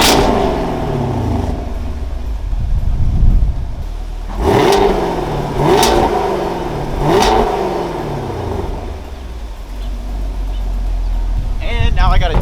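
Car fitted with a Valvetronic Designs exhaust, valves closed, warm engine revved three times in sharp rising-and-falling bursts over a steady idle, close and loud, with an intake whir.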